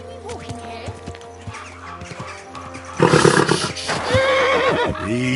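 A horse neighs and whinnies inside the Kingdom Come Deliverance 2 game world, with sharp loud calls and snorts toward the end over a busy ambient background and scattered voices.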